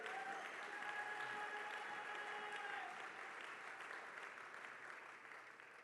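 A church congregation claps and applauds for the Lord in a steady, dense wave of hand claps that holds throughout and fades gently toward the end.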